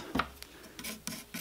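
Short rasping saw strokes cutting wood for an acoustic guitar build, four or five quiet scrapes in an uneven rhythm, close by with no voices.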